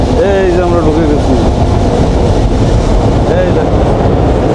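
Steady loud rumble of the Banalata Express rolling onto the new Jamuna rail bridge, heard from inside the train with wind buffeting and faint squealing tones drifting over the roar.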